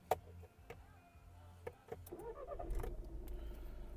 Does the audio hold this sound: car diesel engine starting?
yes